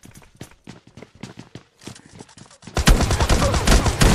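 Automatic gunfire in a mobile shooter game: scattered bursts of rapid shots at first, then a dense, loud sustained volley filling the last second and a half.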